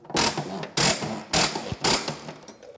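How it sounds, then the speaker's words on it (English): A hand ratchet cracking loose tight track bolts in a workshop, four loud close bursts of rapid clicking, each about half a second long and separated by short pauses. "I always crack them loose because they're usually fairly tight with a ratchet"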